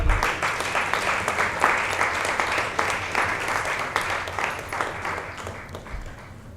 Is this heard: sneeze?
no